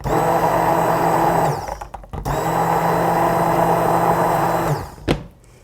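A blender purees sweet potato and apple soup with a steady, loud whir, pauses briefly, then whirs again before winding down with a short clunk near the end.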